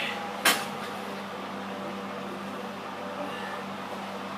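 A single short clunk as sausages go into an oven, followed by a steady low hum that continues alone.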